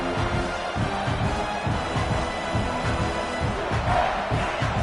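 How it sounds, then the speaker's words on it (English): A fired-up home crowd roars steadily through a football game, a dense, loud wash of cheering and shouting voices filling the stadium without a break. "this home crowd is fired up and ready to make a difference today"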